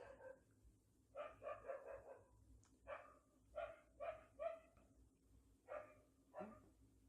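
A dog barks in repeated short bursts, several quick barks grouped together with brief pauses between groups, moderately distant and fairly faint, with no talking over it.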